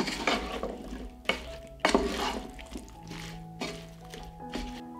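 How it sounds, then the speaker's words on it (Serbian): Chopped potatoes stirred in a metal pot, a few scraping, clattering strokes of a utensil against the pot with soft squishy shifting in between, close and fairly loud with no talking. "Promešat ću."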